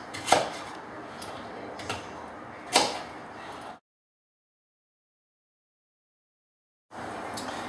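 A knife chops through a vegetable on a cutting board, making a diagonal cut after the firm root has been removed from the quartered pieces. Three sharp knocks sound up close, followed by a long silent gap.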